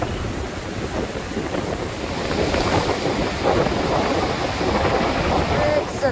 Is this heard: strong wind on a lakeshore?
yes